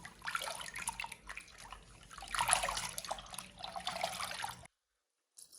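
Marinated pig liver is rinsed by hand in a basin of clean water, giving close splashing, sloshing and trickling in uneven bursts that stop abruptly near the end.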